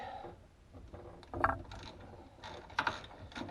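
A 1/2 inch ratchet driver clicking as it turns gearbox mount bolts on a VW, short close bursts of ratcheting separated by pauses.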